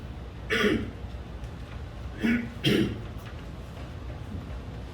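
A person close by coughs once, then clears the throat twice in quick succession, against a quiet room hum.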